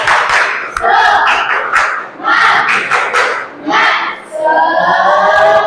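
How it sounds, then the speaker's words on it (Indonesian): A seated group in a teaching session claps hands in loud rhythmic bursts with short gaps between them, mixed with shouted voices and chanting. "Tepuk tangan dulu."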